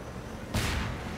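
A sudden heavy explosion in the game Half-Life 2 erupts mid-clip, a wide roaring burst with deep rumble that lingers briefly over steady background noise.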